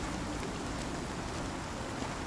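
Steady rain in the survival video game Icarus, a dense, even hiss that stays constant without breaks throughout.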